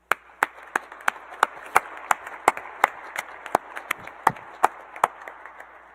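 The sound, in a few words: round of applause at graduation ceremony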